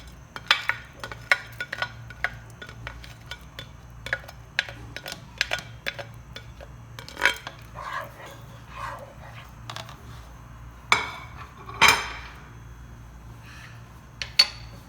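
Fried pistachios, almonds and dried dates tipped into a milk pot of simmering vermicelli, giving scattered light clinks, taps and soft clatter against the pot, with a sharper burst of clatter near the end.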